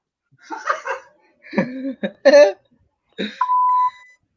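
A single steady censor bleep tone sounds near the end, cutting off casual late-night chatter among friends, with bursts of talk and a laugh before it.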